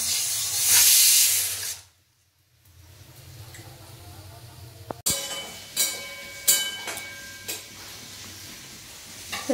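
A pressure cooker in a home kitchen lets off a loud, steady burst of hissing steam for about two seconds, then falls quiet. A few scattered clicks and clatters follow nearby.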